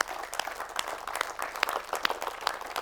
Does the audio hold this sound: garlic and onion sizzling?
no